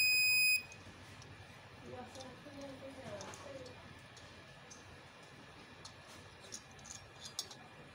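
A 12V pure sine wave inverter kit (500 W max, 220V output, seven-segment display) switching on, giving a short loud electronic beep at the start followed by faint ticking and low hum, with brief talk in the background.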